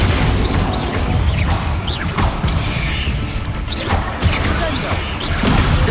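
Spell explosions from the Bombarda charm in Hogwarts Legacy: repeated bursts, cracks and whooshing impacts stacked into a loud, continuous battle din with no talking.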